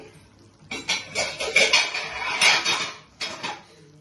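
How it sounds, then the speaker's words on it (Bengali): A metal wok lid is lifted and set down during mutton kosha cooking, giving a few close, loud clanks and rattles of cookware with no talking. "কড়াইটা খুলে দেখবো কতটুকু হয়েছে।"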